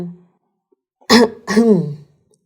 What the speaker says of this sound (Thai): ก่อนกระแอม